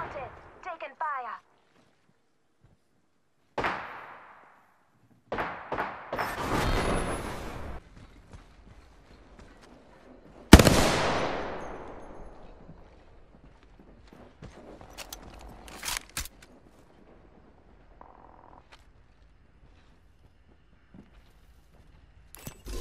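Gunfire from the video game Apex Legends comes in short, sharp bursts separated by quiet gaps, with one loud blast trailing off into a decaying tail and scattered clicks and thuds afterward.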